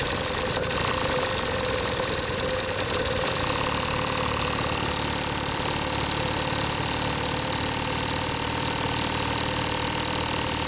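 An old Stuart double-action steam engine runs at full power on a boiler under steam, giving a fast, steady mechanical knocking and hiss that stays loud and even throughout.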